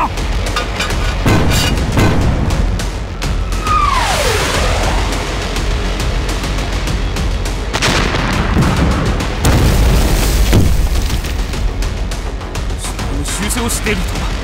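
Artillery cannon fire in a wartime battle scene, repeated deep booms and blasts over a dense noisy battlefield, with a whistling incoming shell and shouted voices mixed in.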